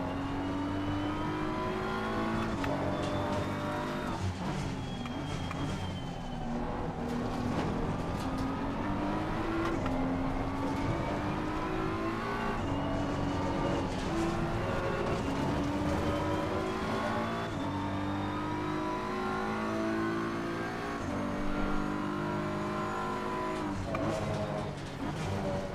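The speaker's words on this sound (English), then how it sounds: "There's a car exiting pit lane." Race car engines in the Assetto Corsa Competizione racing game rev and howl continuously, with many cars on track during a multiplayer lobby race, the pitch rising and falling through gear changes at steady loud volume with no voices.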